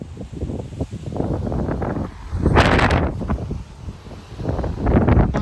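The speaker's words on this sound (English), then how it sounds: "That was a 40-mile-an-hour gust." Strong 40 mph wind gusts roar across a microphone outdoors in Frisco, Texas, during a severe weather outbreak, surging and easing in rough waves with loud buffeting peaks.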